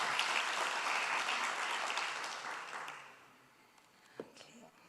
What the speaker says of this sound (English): Round of applause, please, for both of them.